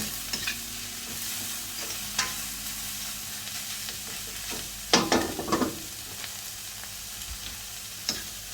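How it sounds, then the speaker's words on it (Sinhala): String hopper kottu sizzling in a pan, a continuous frying hiss broken by a few sharp clanks and scrapes of stirring, close and fairly loud with no talk. "ඊට පස්සේ මේක පොඩි වෙලාවක් විනාඩියක් විතර මේ විදිහට මේක තැම්බෙන්න දෙන්න"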